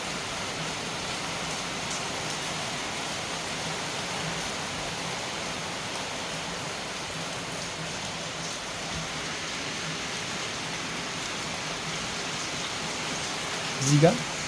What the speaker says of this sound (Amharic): ዝናቡ እያመረረ ነው